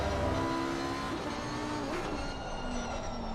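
GT3 race car in Assetto Corsa Competizione downshifting under braking, the engine pitch stepping down in short blips as gears drop, moderately loud and steady with no voices.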